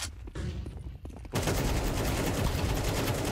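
Counter-Strike 2 gunshots on the Inferno map: a quieter stretch of scattered shots gives way to a dense, loud, continuous burst of close automatic fire that holds steady to the end.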